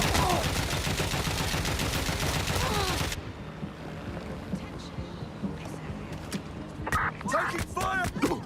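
Gunfire in Watch Dogs: Legion, a dense burst of rapid automatic shots for about three seconds that cuts off abruptly, followed by quieter scattered shots and clatter, with another short volley near the end.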